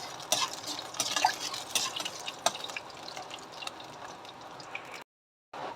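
Fennel seeds and cumin frying in a pan for a gongura meal maker curry, with a steady crackling sizzle broken by sharp pops and clicks. The sound stays close and moderately loud, then stops abruptly near the end.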